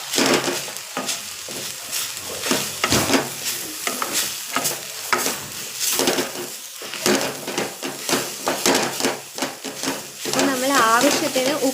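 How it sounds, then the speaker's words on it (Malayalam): Moringa leaf thoran being stirred in a sizzling pan, with steady scraping and frying hiss running throughout while a voice speaks over it. "ഇനി നമ്മളിതെല്ലാം കൂടെ ജസ്റ്റ് ഒന്ന് യോജിപ്പിക്കാം"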